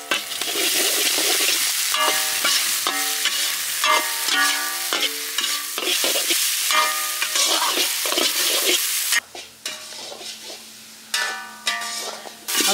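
Crushed shallots, garlic, ginger and green chillies hit hot oil with a loud, dense sizzle and repeated scraping stirs; the frying thins and drops out in bursts near the end, with no voices.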